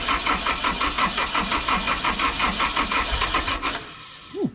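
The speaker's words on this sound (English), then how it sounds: "This is the very first crank, so probably we have to crank it a couple of times to get fuel pressure and to get the start," A Honda S2000 engine cranking on its first start attempt: a rapid, regular starter-motor chug pulses for several seconds, then cuts off without catching, followed by a short mechanical whir at the end.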